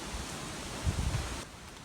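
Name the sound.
wind and rain in the morning at camp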